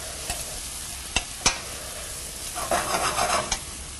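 Diced carrot and other vegetables cooking in a pot as the base for lobster bisque, a steady close sizzle broken by a few sharp clinks of a utensil and a burst of stirring near the end, no talking.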